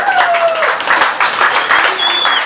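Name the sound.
audience round of applause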